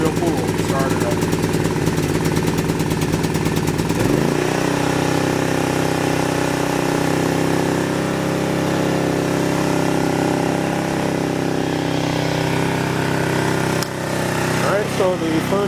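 A Sportsman GEN3500I 3500-watt inverter generator runs steadily at full output just after a pull start, a loud, close, continuous engine drone with a brief rattly start-up at the beginning.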